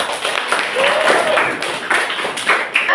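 A classroom of students claps after a group presentation, uneven clapping with a few sharper taps standing out, moderately loud and fairly close.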